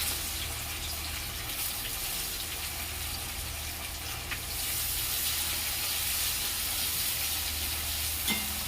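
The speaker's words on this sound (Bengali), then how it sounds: "এর সঙ্গে আমি পেঁয়াজটাও ভেজে নেব" Onion and whole garlic cloves frying in oil, heard as a steady, hissing sizzle that grows a little louder midway, with no talk.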